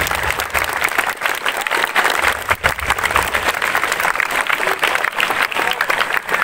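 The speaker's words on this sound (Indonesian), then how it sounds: "tepuk tangan dulu silakan." Students at a national Santri Day school ceremony clapping loudly and continuously, a dense crowd applause close by, with a few voices mixed in.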